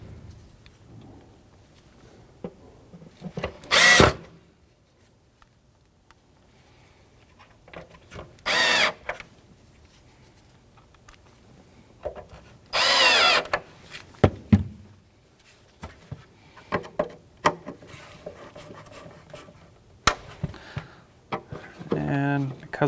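A cordless drill whines in three short bursts, driving taillight screws on an Acura MDX, with clicks, handling noises and someone talking between the bursts.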